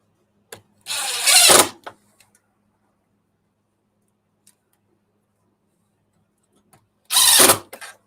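A power tool tightens screws on stepper drivers, with two short, loud, close buzzing whirs about six seconds apart and faint clicks in the quiet between.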